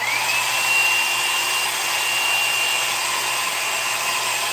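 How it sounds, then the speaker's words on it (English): A blow dryer runs steadily throughout, a loud, even broadband whoosh with a faint high whine rising at the start, no one talking over it. "do you not mind the sound of the blow dryer?"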